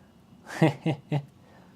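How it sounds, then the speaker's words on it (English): Pet cat meowing from outside a shut door, three short quiet mews in quick succession against a faint room background. "she decides to just start meowing"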